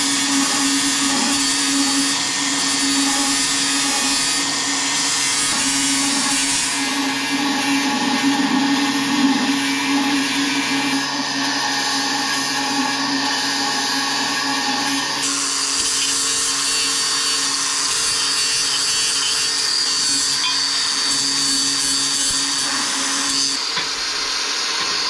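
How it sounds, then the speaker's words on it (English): DeWalt 60 volt grinder fitted with a 6-inch flap disc, running continuously with a loud, steady high whine whose pitch and grinding texture shift as it works against material, heard alone. "we'll get to use our new 6-inch flap disc grinder, our DeWalt 60 volt"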